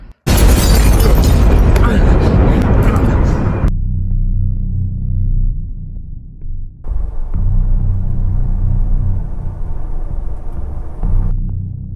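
A massive, roaring explosion erupts loud and close, then fades into a long, heavy rumble with crackling debris continuing to the end.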